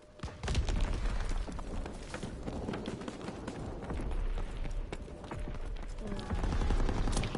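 Gunfire in a video game, with a dense run of rapid shots and bursts mixed with busy game effects at a moderate level.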